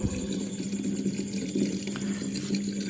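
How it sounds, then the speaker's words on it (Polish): Coconut milk poured from a fermentation bucket into a homemade fermentation tank, a steady close splashing and trickling of liquid running without pause and with no talk. "to przelewanie tego wiadra fermentacyjnego do zbiornika fermentacyjnego, który ostatnio zbudowałem"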